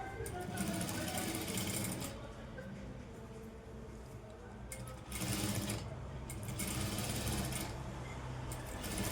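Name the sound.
sewing machine stitching a blouse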